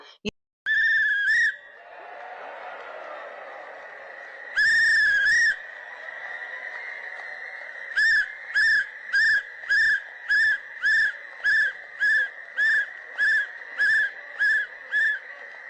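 Actor-politician Vijay blows a shrill whistle on stage at a speech event, a few long blasts, then a fast run of about a dozen short, evenly spaced toots, loud and close over faint background noise.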